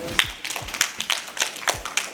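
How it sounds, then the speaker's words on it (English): Students clapping in a classroom, a brief burst of scattered handclaps from a small group, fairly close and uneven in rhythm. "Please clap for Alice"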